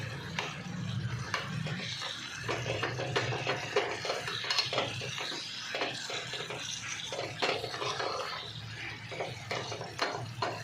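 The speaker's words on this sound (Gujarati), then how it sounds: "એમાં ગોટી ના પડે એ રીતે લોટને એમાં મિક્સ કરી દેવાનો છે" A spoon stirring flour into hot oil in a pan for marcha sambharo, a continuous close scraping and swishing against the metal with clinks as the mixture is worked, with no voices.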